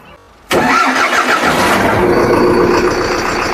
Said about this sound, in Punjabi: ਆਹ ਦੇਖੋ ਸਾਊਂਡ ਕਿਸਾਨ ਵੀਰੋ ਕਿੰਨਾ ਪਿਆਰਾ ਸਾਊਂਡ ਆ ਟਰੈਕਟਰ ਦਾ